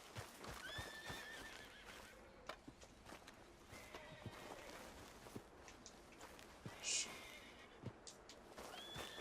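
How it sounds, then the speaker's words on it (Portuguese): Horses in the Red Dead Redemption II video game whinny and snort amid steady hoof clip-clop and camp ambience, with one loud, sharp neigh near the end standing out over the moderate background. "deixa eu soltar os cavalos"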